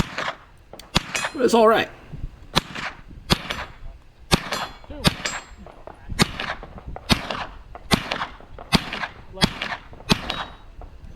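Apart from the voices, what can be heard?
Sub2000 carbine shots hitting steel targets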